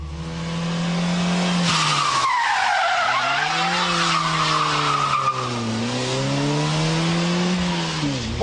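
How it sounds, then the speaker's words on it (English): A front-wheel-drive car skids with its rear wheels locked, giving a loud, continuous tire squeal that wavers in pitch over a steady engine drone, with no voices. "trying to drag along locked rear wheels"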